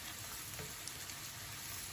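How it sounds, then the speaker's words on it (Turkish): Ground meat frying in a pan with freshly chopped tomatoes, a steady, faint sizzle with a soft crackle and no break. "kıymam 3-4 dakikadır kavruluyor. İçerisine doğradığım domatesleri ilave ettim."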